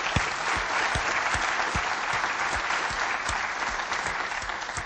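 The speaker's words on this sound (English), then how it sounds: "And a round of applause." Steady, full applause from an audience after a presentation on lean organization, continuous and even throughout with no break.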